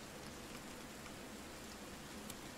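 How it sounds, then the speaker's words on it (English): Steady rain falling in the survival video game The Forest, a constant hiss of drops on the ground, even and unbroken throughout with no voices over it. "It's raining."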